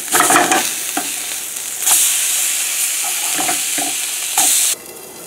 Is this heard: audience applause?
no